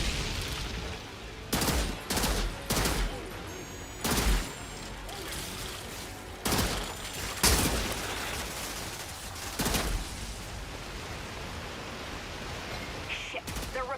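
Sniper rifle fire in a video game sounds as a series of sharp, separate loud cracks spaced a second or two apart over a constant background hiss, with a faint voice now and then.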